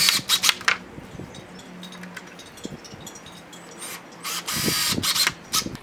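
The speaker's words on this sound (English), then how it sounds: "I'm going to do 3 screws for each one" Screws being driven into cedar fence picket wood with a power drill, heard as several short bursts of high-pitched whirring, loudest at the start and near the end, with quieter handling noises in between.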